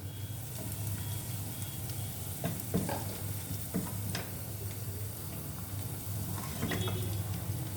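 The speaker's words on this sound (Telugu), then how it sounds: "ఉల్లిపాయ ముక్కలు మగ్గినయో లేదో చూద్దాం" Onion pieces fry in a pan for upma, with a steady close sizzle and a few light clinks and stirring scrapes. No one speaks.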